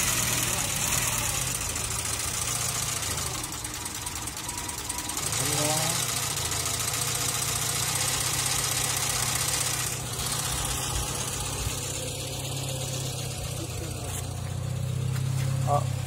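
A 1987 Mitsubishi Galant's 1.6-litre eight-valve four-cylinder engine runs steadily with a rough, clattering idle and brief rises in revs, close by, while people talk over it.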